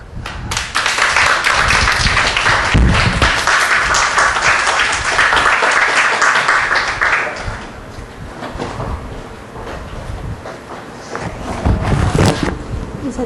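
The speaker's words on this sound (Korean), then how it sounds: "우리 나올 때 박수로 우리 환영하겠습니다" Audience applause welcoming speakers onto the stage at a personality-test counselling training seminar, loud dense clapping for about seven seconds that thins out and then swells briefly again.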